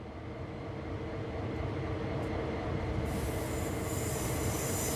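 A locomotive brakes in the Train Sim World 3 video game, a loud continuous rumble of rolling wheels with rising metallic squeal and hiss as the brakes take hold, close and steady.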